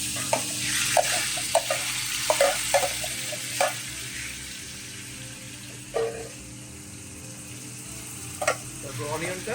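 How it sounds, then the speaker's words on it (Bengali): Celery sizzles steadily in extra virgin olive oil in a pan for a Bolognese sauce, a continuous close frying hiss broken by several sharp clicks and scrapes of stirring. "স্যালারিটা প্রথমে দিয়ে দিচ্ছি,"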